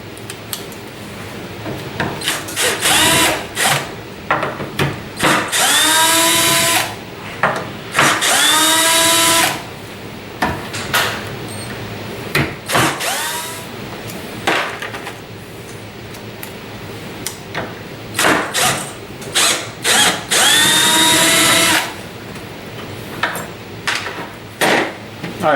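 A cordless power drill driver backs screws out of cabinet hinges for an under-counter garbage drawer, in repeated short whirring bursts with rising and falling pitch, separated by clicks and clattering of hardware and tools on a table.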